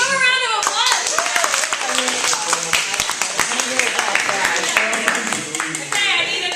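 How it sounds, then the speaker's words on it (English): A school assembly audience gives a round of applause, scattered crisp claps mixed with cheering voices and chatter, moderately loud throughout with talk at the start and end. "Give him a round of applause."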